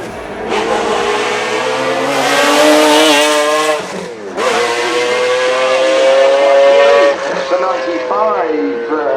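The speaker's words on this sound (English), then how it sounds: "The short-tail F1 GTR appears in Need for Speed High Stakes" A McLaren F1 GTR short-tail race car roars in the Need for Speed High Stakes video game. Its high, whining engine note holds loud and steady, dips sharply twice as gears change, then climbs again.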